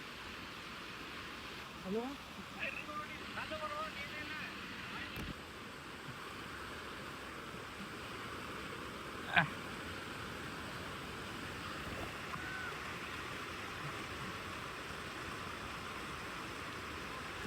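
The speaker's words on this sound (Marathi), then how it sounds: "तुम्हाला आता आवाज ऐकून वाटत अंदाज येत असेल धबधबा कसा आहे." A steady, broad roar of rushing water from Tillari waterfall in Maharashtra fills the whole clip, constant and unbroken, with a faint thump partway through.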